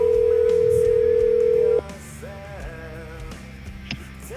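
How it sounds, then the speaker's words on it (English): A telephone call tone rings over the line, one long steady tone that stops, followed by a quieter, fainter phone-line hum with some faint background sounds. "it's ringing, dude"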